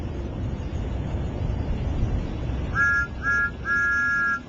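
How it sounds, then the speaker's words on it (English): A steam engine's whistle sounds three times over a steady hissing rumble. The toots are loud and clear, and the last one is held longest. "That's Thomas's whistle. All steam engines have whistles."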